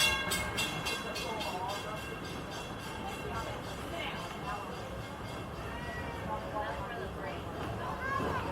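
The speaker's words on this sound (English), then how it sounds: "Please remain seated until the train comes to a full and complete stop." Magic Kingdom steam train ride rolling into Frontierland Station, with steady rumbling wheel and carriage noise throughout and a faint ringing tone, under a recorded announcer's voice.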